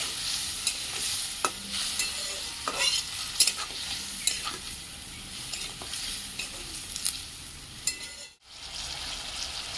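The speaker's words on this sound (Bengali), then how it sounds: "এবার সব উপকরণগুলো দিয়ে আমি ভালো করে নেড়ে নেব।" Curry masala with a little water and two tomatoes is stirred in a pan for chhanar dalna, a gentle sizzle under repeated scraping and tapping of the spoon, with a brief near-silent gap near the end.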